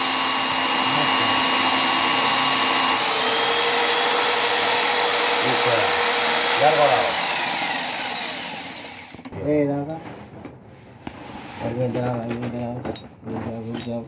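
An e-rickshaw motor spun as a 12V alternator whirs in a steady high-pitched drone for about nine seconds, then stops, followed by someone talking close by with a brief clunk.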